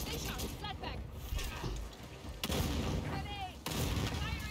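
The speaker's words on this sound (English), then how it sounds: "I got so many nades going off right now, bro." Multiple grenades going off in a first-person co-op shooter, a loud, dense wash of blasts and battle noise with sharp bursts, overlapping with excited talking.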